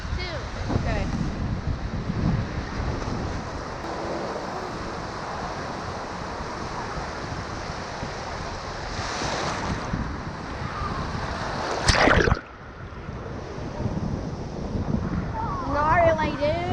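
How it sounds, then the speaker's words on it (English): Ocean surf breaking on a cold beach, steady roar of waves with heavy wind buffeting the microphone and a louder wave crash near the end, with people talking intermittently. "Oh yeah, the waves look way better for boogie boarding."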